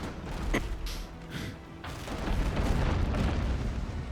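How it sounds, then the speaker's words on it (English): A mortar fires in the naval video game Abandon Ship, giving one sharp report followed by a deep, rumbling boom that rolls on and swells under low game ambience. "Now, let me mortar."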